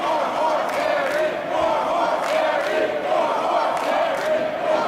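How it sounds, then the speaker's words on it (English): Wrestling crowd at an independent Scenic City Invitational show cheering and shouting approval for Jake Parnell, a steady, dense roar of many voices with occasional louder whoops, sustained throughout without a break. "The fans voicing their approval for Parnell's effort."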